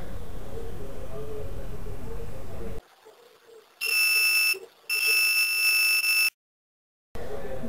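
Analog multimeter sounding a steady high-pitched beep during a diode test, two loud bursts of even tone broken by a short gap, framed by silence and low background hiss.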